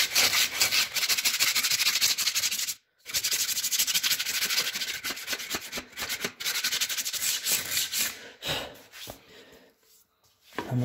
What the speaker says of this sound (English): Take your sander,